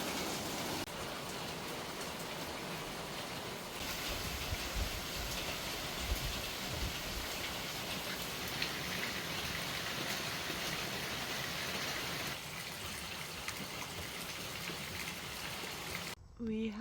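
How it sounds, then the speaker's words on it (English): Steady rain falls over a garden, a continuous broadband hiss of drops on surfaces that holds at an even level throughout, with some low rumbling patches partway through and no talking. "That's a proper nice rain."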